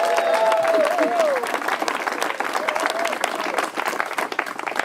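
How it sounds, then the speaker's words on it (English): An outdoor crowd at a town green festival opening ceremony applauds officials and a crew, sustained clapping with scattered cheers and whoops over it, moderately near and steady throughout. "Give them all a round of applause."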